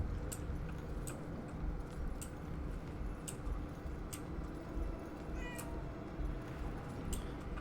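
A cat in the video game Murdered: Soul Suspect meows over a steady background rumble, with several short mewing calls spaced out through the clip.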